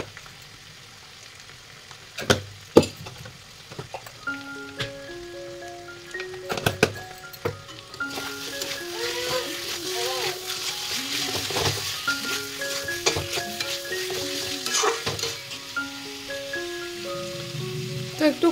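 Chicken stir-fried with added chili and turmeric for a curry, steady frying sizzle with stirring scrapes and clicks, growing busier and louder halfway through, with tonal music running underneath and no talk.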